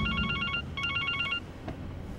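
A telephone forgotten by a customer rings with two bursts of electronic trilling, close and clear, followed by a short quiet gap with faint clatter.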